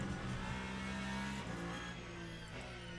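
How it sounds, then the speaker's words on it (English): Race car engine at Spa in the Le Mans Ultimate sim racing game, a continuous dense droning roar with shifting harmonic tones from changing revs, steady in level across the whole stretch. "let me know if the engine is too loud right now"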